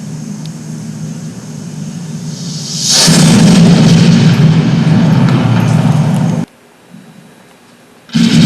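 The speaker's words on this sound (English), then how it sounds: "an explosion." Deep, rumbling blast from detonating a large cache of about 500 pounds of ammunition, a long roaring boom that swells and sustains for several seconds before cutting off, then a brief resurgence at the end.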